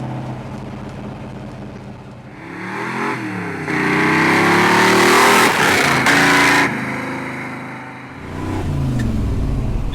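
A 1963 Dodge 330 with the Max Wedge engine revs and accelerates hard, its loud raw roar climbing through a gear, briefly easing off, then surging again close by.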